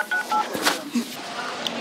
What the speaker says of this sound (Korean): 엄마한테 전화해야겠다.